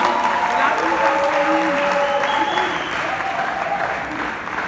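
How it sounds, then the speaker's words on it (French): An audience applauds slam poet Chérif at the French Institute in Kinshasa, with steady clapping throughout, fading slightly toward the end, and a voice speaking over it along with some musical tones. "J'aimerais qu'on applaudisse encore bien fort pour Chérif."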